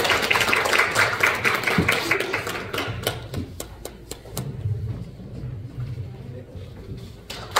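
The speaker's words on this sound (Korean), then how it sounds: "박수 주시죠." Audience applause at a hotel event, a regional community care report meeting, rising at the start as dense clapping and thinning to scattered claps under room noise and murmur.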